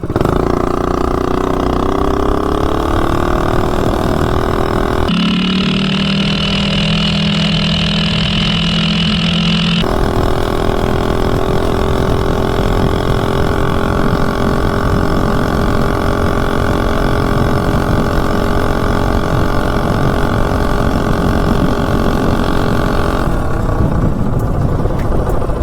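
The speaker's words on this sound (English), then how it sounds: "top speed run, Predator 212 with a stock cylinder head" Predator 212 engine with a stock cylinder head on a Coleman mini bike, held at full throttle for a top speed run, a loud, steady, buzzing drone close to the rider throughout, briefly shifting pitch, with no talk.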